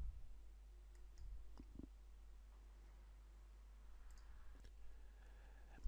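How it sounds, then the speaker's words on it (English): Computer mouse clicks on the Go button in phpMyAdmin, a few faint sharp clicks spread over a quiet background with low hum. "Scroll down and click the Go button."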